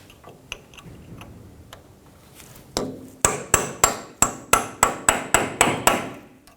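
A hammer strikes a punch to free the front wheel hub assembly on a 2007-2017 Ford Expedition. After a few light taps come about a dozen sharp, evenly spaced metallic blows, each ringing briefly.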